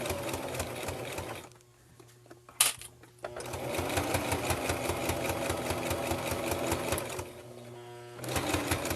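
A sewing machine stitching straight seams on a fabric pet leash, a fast, even, close mechanical whir that runs steadily, pauses briefly twice and starts again, with a short rustle of handling in the gap.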